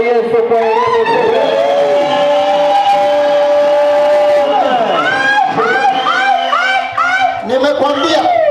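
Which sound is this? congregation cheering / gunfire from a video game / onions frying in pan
congregation cheering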